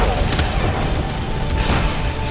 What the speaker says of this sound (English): Atlas cannon fired.